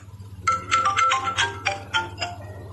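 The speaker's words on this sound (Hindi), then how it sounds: "मन्नू कुछ स्टार्ट कर भी नहीं पाया था कि शिवानी का कॉल आ गया।" A melodic phone ringtone plays a short series of bright electronic tones over a low steady hum, with no voices.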